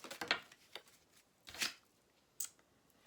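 A bonus card is drawn from a deck, with soft brisk riffling and flicks of cards in a few short separate bursts, close and quiet with no talking.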